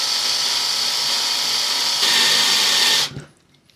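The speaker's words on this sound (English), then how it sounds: "Got the drill, got a piece of wood to drill on." A power drill bores straight down through a piece of wood held in a jig, a steady loud whine for about three seconds that intensifies as the bit pushes through, then cuts off abruptly.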